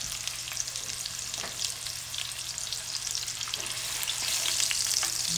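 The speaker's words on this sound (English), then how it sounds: "I'm gonna saute this a little bit" Shredded cabbage sautés in bacon fat in a skillet with a steady, close sizzle and crackle that grows a little livelier toward the end, with no voices.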